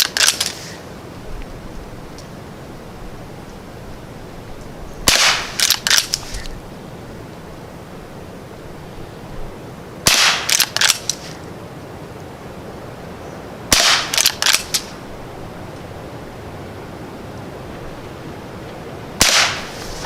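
Five sharp shots from a Henry American Eagle rifle firing CCI Quiet .22 rounds at 10 yards, each a brief crack spaced a few seconds apart over steady outdoor background noise.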